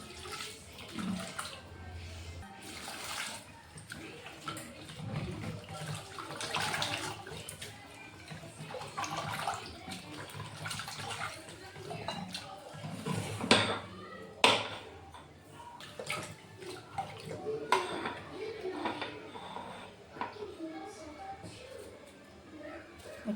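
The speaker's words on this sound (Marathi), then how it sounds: "आता हे सगळं धुवून घेतो" Running tap water as vegetables are washed in a kitchen sink, a steady splashing flow with irregular surges and clatter, under intermittent talk.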